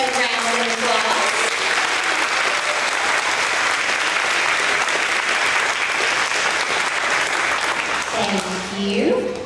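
An audience at a first grade awards event applauds the reading excellence students, sustained dense clapping for several seconds, with a voice heard briefly at the start and again near the end.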